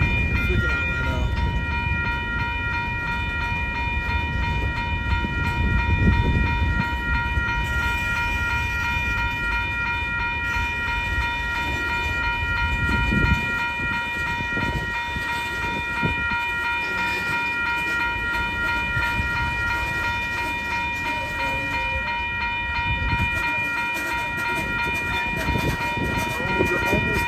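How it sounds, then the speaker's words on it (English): A long Union Pacific and BNSF freight train rolls past at Rochelle, Illinois, in the evening, a steady loud rumble of wheels and cars with high rail squeal, while a person talks over it. "This train's taking forever."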